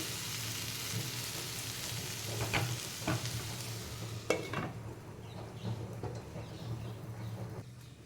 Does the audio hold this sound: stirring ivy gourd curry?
yes